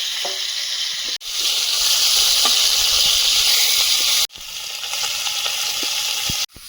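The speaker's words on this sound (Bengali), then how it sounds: "ওই তেলে মাথাটা ভেজে নেব" Katla fish heads fry in hot oil in a pan, a loud, close, dense sizzling hiss in three sustained bursts separated by brief cuts, with no talking.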